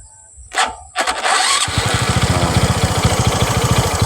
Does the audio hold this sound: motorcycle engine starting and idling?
yes